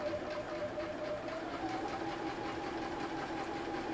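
A sewing machine stitches fabric at a half-inch seam allowance for a basket, running in a steady continuous whir with a faint rhythmic motor hum throughout, close and moderately quiet.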